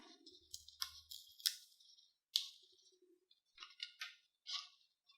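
Vinyl cut while decorating Christmas presents, faint close snips and clicks scattered irregularly over a few seconds against near silence.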